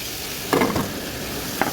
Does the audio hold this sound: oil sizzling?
yes